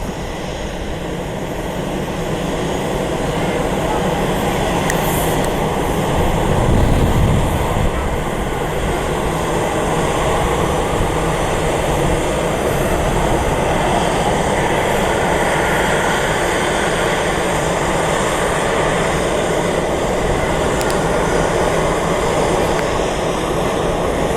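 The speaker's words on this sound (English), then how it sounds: "Airbus A319 heading over to its gate." An American Airlines Airbus A319 with winglets taxis toward its gate at Columbus airport, a steady low jet engine rumble and whine holding level throughout, swelling briefly midway.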